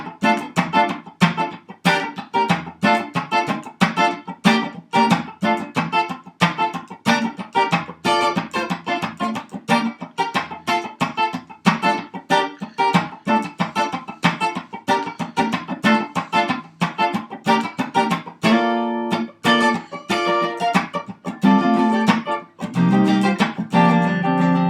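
Electric guitar rhythm part opening a song, clean choppy funk strums in a tight repeating pattern with crisp muted chords, loud and close, played alone with no talk.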